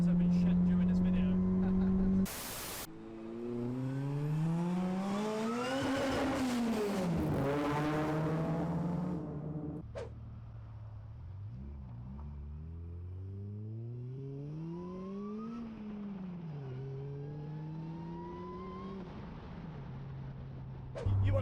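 A supercharged, roughly 350 bhp Honda Accord engine revs up in long rising sweeps with a whining pitch, easing off and then climbing again, loud and close.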